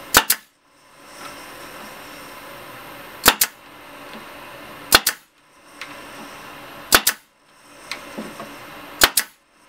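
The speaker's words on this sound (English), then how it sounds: "Brad nailer kind of sucks." Pneumatic brad nailer firing nails into a wooden guitar shipping crate: sharp, loud cracking shots in spaced pairs, each followed by a long airy hiss from a leaking air line.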